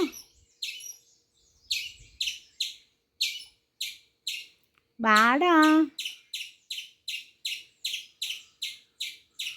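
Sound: bird chirping

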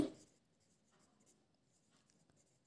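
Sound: writing an answer by hand

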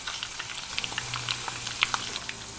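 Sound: pork skins frying in fat in a pan

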